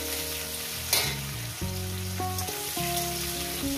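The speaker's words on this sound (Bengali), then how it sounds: "পেঁয়াজটাকে আমি মিনিট 2 ভেজে নেব।" Chopped onion and green chillies frying in hot salted oil in a pan, a steady close sizzle with a brief clatter of stirring partway through, alongside tonal background music.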